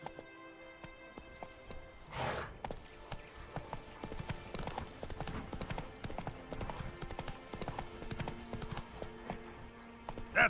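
Horse hoofbeats from Roach, Geralt's horse in The Witcher 3 game, trotting in a steady clip-clop rhythm over game music and ambience, with a brief louder burst early on.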